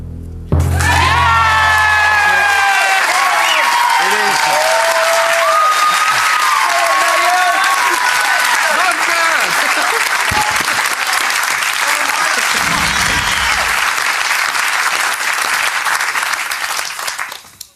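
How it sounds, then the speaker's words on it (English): Studio audience on the game show Deal or No Deal breaking into loud sustained applause with cheers and whoops, close and dense for most of the span, then tapering off, with a voice briefly at the start. "have you noticed when they clap, they go up and down at the same time?"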